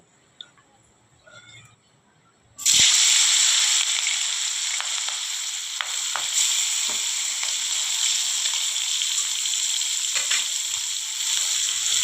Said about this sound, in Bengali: দেখুন আমার তেলটা গরম হয়ে গেছে এ পর্যায়ে কেটে রাখা মাছটা আমি দিয়ে দিব